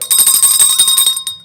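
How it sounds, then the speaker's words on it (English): A small bell rings in a rapid, bright trill of repeated strikes for just over a second, loud and close, then cuts off with a brief last ding. "That's a sad bell."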